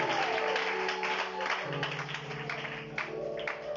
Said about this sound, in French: Acclamons pour le Seigneur et mettons sur les pieds